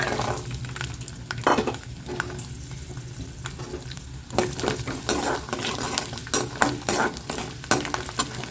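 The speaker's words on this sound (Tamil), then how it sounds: "இப்போ வந்து நம்ம ஃபஸ்ட்டு பூண்டு போட்டுடலாம்." Oil sizzles and crackles steadily as native garlic fries for chutney, with intermittent scraping and clinking of a utensil stirring in the pan.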